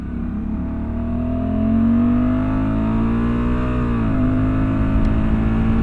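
A Honda Africa Twin motorcycle with a dual clutch transmission accelerates with a steady engine drone that climbs in pitch, dips briefly at a quick gear shift, then climbs again under wind noise.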